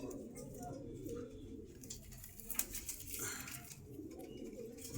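Rampuri pigeons cooing at a bird market in Meradia Bazar, Rampura, Dhaka, low coos under busy market chatter and nearby voices, with occasional soft rustles and taps.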